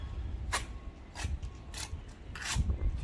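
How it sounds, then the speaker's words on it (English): The side of a bricklayer's trowel scrapes across mortar in four short, rasping strokes spaced about half a second apart, close and fairly quiet over a low outdoor rumble on a bricklaying site. "Side of your trowel."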